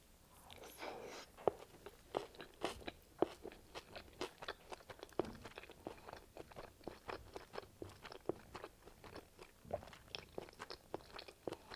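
Close, crisp crunching and biting with steady chewing as Chipotle meat is eaten in a Mexican food mukbang, a rhythmic run of sharp bites and mouth sounds with no talking.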